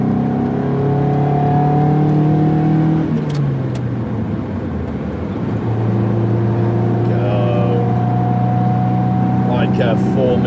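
A car engine hums and revs steadily while driving on a road, its pitch dipping and rising through gear changes, with talk heard over it.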